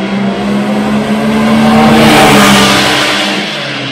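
A car fitted with an Evolution Powersports exhaust launches from 0 to 60, its engine note loud and close as it roars and builds steadily, then eases off near the end.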